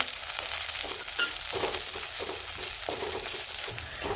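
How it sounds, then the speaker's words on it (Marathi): Onion and green chilli sauté in a pan while making upma, a steady close sizzle broken by repeated scraping stirs of a spoon against the pan. "कांदा थोडा परतलाय, आपण मिरची टाकू।"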